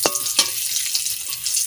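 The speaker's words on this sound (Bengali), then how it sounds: "তেল দিয়ে দিচ্ছি, তেজপাতা দিয়ে" Bay leaves hit hot oil in a pan, giving a sharp sizzling crackle with a few distinct clicks and scrapes over a brief, close, steady hiss.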